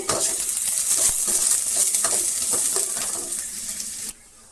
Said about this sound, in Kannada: ಆಯಿಲನ್ನು ಹಾಕ್ತಾಯಿದ್ದೀನಿ ಅದರ ಜೊತೆ ನೋಡಿ ಸಣ್ಣದಾಗಿ ಕಟ್ ಮಾಡಿರುವಂಥ ಈರುಳ್ಳಿ ಹಾಕ್ತಾಯಿದ್ದೀನಿ ಚೆನ್ನಾಗಿ ಫ್ರೈ ಆಗಲಿ